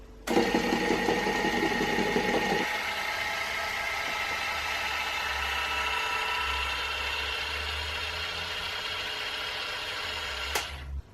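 An electric hand mixer whirs steadily through gluten-free, lactose-free and yeast-free cupcake batter, running loud and continuous for several seconds, with a heavier churning start before settling into an even mechanical drone.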